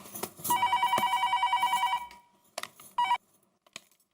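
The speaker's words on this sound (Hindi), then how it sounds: "फोन आया।" A telephone rings with a rapid trilling bell for about a second and a half, then a brief second ring follows amid faint clatter.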